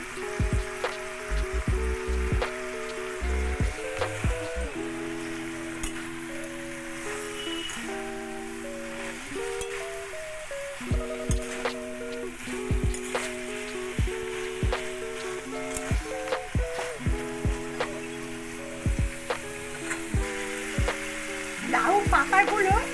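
Fried potatoes and fried aubergines sizzle steadily in a pan with softened gourd stems and turmeric for a greens chorchori, a close, continuous crackle under soft background music with occasional stirring knocks.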